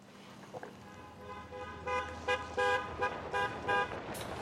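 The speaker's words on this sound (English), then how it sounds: "I hear her little car." A small car pulls up and gives several short horn toots, bright and fairly close, repeated in quick bursts over steady engine noise with no talking.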